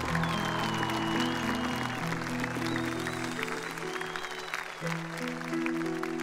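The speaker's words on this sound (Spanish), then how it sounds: "Fuerte el aplauso para ellos" A concert crowd applauds the staff at a show for Puerto Aysén's 91st anniversary, steady clapping mixed under sustained music for the full stretch.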